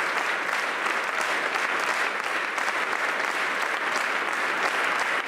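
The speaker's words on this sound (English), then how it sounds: "The believers first stood up as they clapped their hands" A church congregation clapping, dense steady applause from many hands that carries evenly and fairly loud throughout, with no distinct voices.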